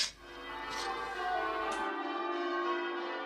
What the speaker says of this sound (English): The dear old cathedral bells. Ringing in dear old Christmas morning.